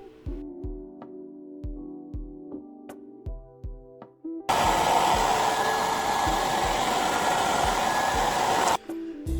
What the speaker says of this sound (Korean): 사실 이 드라이기조차 원래 고시원 안에 빌트인 되어 있던 거라서요